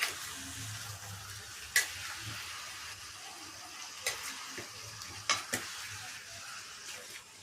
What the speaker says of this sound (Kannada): ಇದು ಎಣ್ಣೆನಲ್ಲೇ ಸ್ವಲ್ಪ ಫ್ರೈ ಮಾಡಬೇಕು ಈ ಥರ.